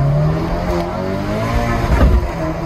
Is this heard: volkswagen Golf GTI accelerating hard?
yes